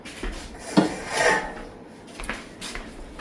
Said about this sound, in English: Now we need 3 cake pans.